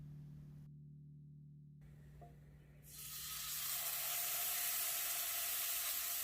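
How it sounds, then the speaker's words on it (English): Pork chops hit a hot frying pan on a stovetop and a loud, steady sizzle swells up after a quiet start, continuous crackling frying close by, with no talking. "Gotta have that sizzle when you are browning your meat."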